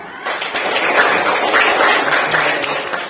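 Schoolchildren in a fifth-grade classroom clap their hands together on the teacher's command, a dense burst of many small hands slapping at close range, steady and loud for a few seconds.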